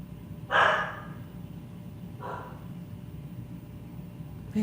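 A dog barks indoors, one fairly loud bark followed by a fainter one about two seconds later and the start of another at the end, over a low steady room hum.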